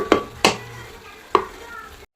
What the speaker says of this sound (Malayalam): ഇത് നന്നായിട്ടൊന്ന് ഇളക്കി കൊടുക്കാം നന്നായിട്ടൊന്ന് ഇളക്കിയിട്ട് മൂടി വെക്കുക